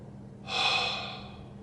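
A voice imitates someone breathing close into an ear inside a tunnel: one soft, breathy exhale lasting about a second, very near and alone, with no talking.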